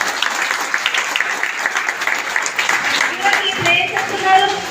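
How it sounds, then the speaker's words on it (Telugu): Audience applause at a large award function, a dense wash of many hands clapping continuously, loud and full, with voices audible underneath. "చాలా చాలా గ్రాండ్ అప్లాజ్"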